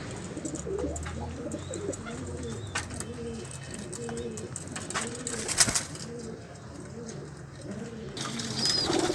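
Pigeons coo in a steady, repeating rhythm, several calls overlapping close by, with brief bursts of wing flapping; these are kept pairs of a domestic pigeon breed, heard alone without talk.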